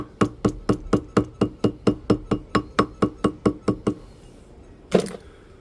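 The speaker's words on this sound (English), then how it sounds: "we're going to take our rubber mallet, come over here, tap a little bit on the sides." A rapid, steady series of about sixteen sharp rubber mallet taps, close and evenly spaced, followed by a pause and one louder knock.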